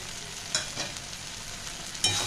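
Potol bharta with crushed fried chilli stir-fried in a pan over medium-low flame, a soft steady sizzle with a couple of sharper spatula scrapes against the pan.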